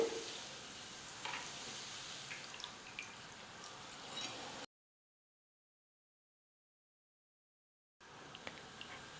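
Omapodi dough fries in hot oil with a steady, fine sizzle and small crackles, close and moderately loud; it cuts out to silence midway, then the sizzling resumes.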